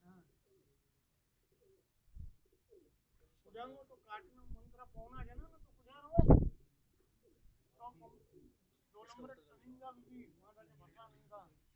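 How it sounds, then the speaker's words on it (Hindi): Pigeons coo on a rooftop in soft, throaty bursts, with one louder close call midway, while people talk quietly nearby. "ये हमारे खालिद भाई का परवादी कबूतर पीली कड़ी वाले।"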